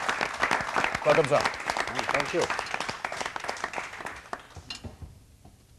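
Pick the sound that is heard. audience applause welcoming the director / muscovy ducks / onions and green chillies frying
audience applause welcoming the director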